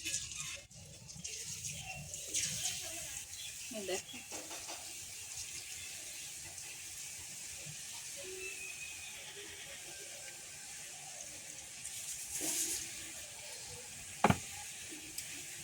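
Gram flour bhujia batter drops into hot oil and fries with a quiet continuous sizzle, with a few faint clinks and a sharp tap near the end.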